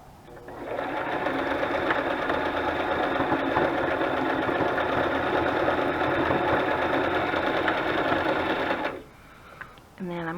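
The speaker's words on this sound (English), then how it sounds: "I'm just sewing is all." A sewing machine stitches burlap and lace banners in one long, steady whirring run of about eight seconds, loud and close, then stops abruptly and a brief voice follows.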